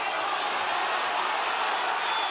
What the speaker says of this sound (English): And the crowd brought alive by that landing left hand.